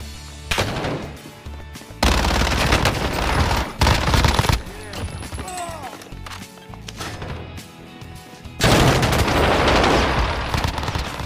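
A CR-56 AMAX assault rifle fires in Warzone, loud close bursts of rapid automatic shots broken by short pauses, with a long final burst near the end.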